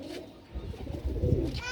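Pigeons coo nearby in low, throaty burbling calls, soft and close.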